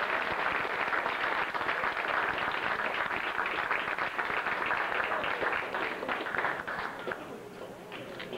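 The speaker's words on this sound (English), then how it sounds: "Great applause for you." A crowd applauds at a Clubhouse Concert Series show, dense continuous clapping that holds steady and then tapers slightly near the end, with no voices over it.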